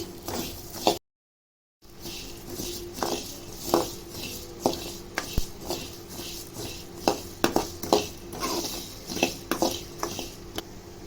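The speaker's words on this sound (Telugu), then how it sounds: "ఇట్లా అన్నీ రోస్ట్గా వేయించుకోవాలి" Coriander seeds dry roasting in a pan for rasam powder, with close scraping and stirring clatter from a spoon against the pan, repeated rhythmically over a faint background, with one short silent gap.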